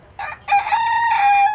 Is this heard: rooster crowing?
yes